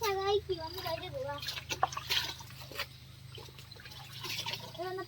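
Tap water runs and splashes while cabbage is washed, a steady wet rush with scattered drips, partly under voices talking at the start and end.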